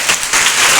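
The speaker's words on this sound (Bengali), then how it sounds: "একটা হাততালি হবে" A school audience gives a round of applause for a student, many hands clapping in a dense, steady wash that swells slightly and continues through the short moment.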